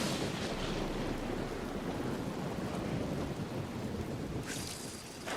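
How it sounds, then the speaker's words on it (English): Rainy weather in Fallout 76 gives a steady dense downpour with a low rumble underneath, loud and unbroken and without voices. "I do wish it wasn't rainy weather."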